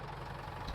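Old front loader tractor with many hours on it idles in Farming Simulator 22, a steady low engine rumble with a faint knocking texture, held at an even level throughout with no talking.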